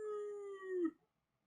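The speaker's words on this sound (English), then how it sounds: "I got dogs out there raising Cain." A single dog howls outdoors in a long, wavering tone that slides downward and breaks off abruptly, fairly faint and distant, followed by silence.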